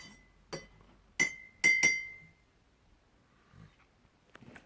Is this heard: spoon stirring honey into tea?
yes